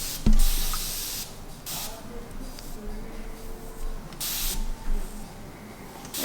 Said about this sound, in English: So for the top, I'm just going to lightly spray it.